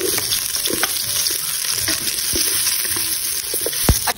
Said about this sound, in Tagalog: Unahin natin igisa ang ating arroz caldo.